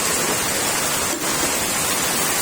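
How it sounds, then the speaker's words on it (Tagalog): Heavy rain from Typhoon Carina pouring down outside a house by a flooded street, a dense, loud, unbroken wash of rain noise throughout. "Ang lakas ng ulan dahil sa bagyong Karina."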